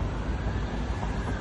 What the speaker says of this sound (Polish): Wsiadamy do metra